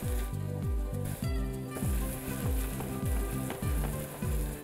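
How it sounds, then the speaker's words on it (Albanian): Mushrooms sizzle in a frying pan or pot with a steady, crackling hiss that runs under a rhythmic, repeating musical backing. "Duket sikur hedhim shumë kërpudha në momentin e parë që i vendosim në tigan apo në tenxhere"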